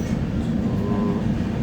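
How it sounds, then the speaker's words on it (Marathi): A train pulling into a railway station, a loud close steady low rumble of rolling wagons with faint wheel clatter, heard alone without speech. "तुम्ही बघू शकता ट्रेन पण आलेली आहे."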